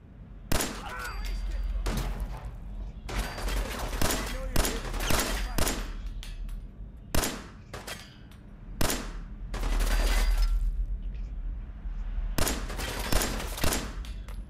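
Gunfire in the post-apocalyptic game Fallout 4 rattles out in repeated sharp shots and rapid bursts with short gaps between them, loud and close, with a player's voice now and then.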